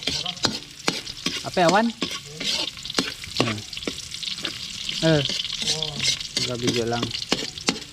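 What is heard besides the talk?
sautéing ginger in a pan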